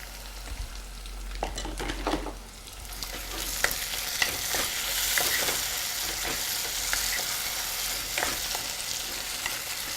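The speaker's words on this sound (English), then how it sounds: "Now we can go on and add the chopped tomato to it." Chopped tomato frying and being stirred in a pan while cooking, a continuous close sizzle broken by repeated scraping stirs of the spoon, with no talking.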